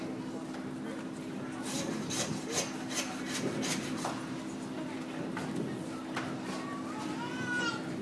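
A butcher saws and trims through a lamb leg to remove the shank, giving a steady rasping, rubbing scrape of blade on bone and meat with short bursts, over a constant background hum and faint voices at a food festival.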